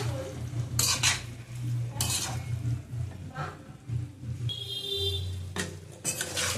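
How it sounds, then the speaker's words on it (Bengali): Chicken and fried potatoes for a yoghurt chicken curry are stirred and fried in a pan, with repeated scraping and clanking of a metal spoon against the pan over a soft, continuous sizzle. "এবার আস্তে আস্তে করতে হবে, মাংস কষিয়ে।"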